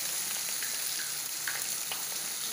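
Vegetables with capsicum sizzle in a pan while cooking for a vegetable biryani, giving a steady, close frying hiss that runs unbroken throughout, with no one talking.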